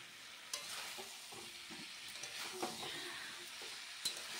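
Fried potatoes and prawns are stirred and sautéed in a pan, giving a soft steady sizzle with scattered scraping and clinking as they are turned, close and fairly quiet.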